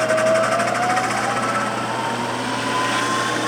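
An Acer Ultima 10-inch by 50-inch milling machine spindle turning at low speed, around 80 RPM, giving a steady mechanical hum and whir with a faint rhythmic flutter, close and continuous.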